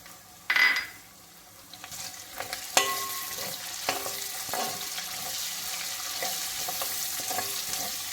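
Beef pickle ingredients frying in hot oil, a steady sizzle with a sharp burst as kanthari chillies drop in, followed by stirring scrapes and clinks in a pan.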